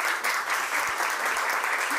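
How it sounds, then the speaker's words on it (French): Steady applause from an audience at an evening talk event, a dense even wash of clapping lasting throughout, fairly close and moderately loud with no voices on top. "On peut applaudir Gwen, d'ailleurs."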